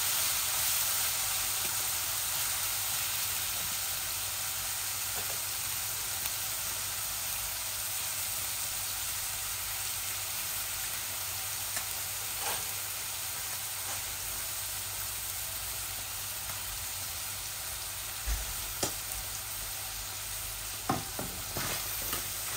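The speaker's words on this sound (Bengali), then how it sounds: "হলুদ দিচ্ছি যাতে পেঁয়াজগুলা জলদি ভাজা হয়ে যায়।" Onions with turmeric sizzle in a pan, a continuous close frying hiss broken by occasional scrapes and taps of stirring, with no talk.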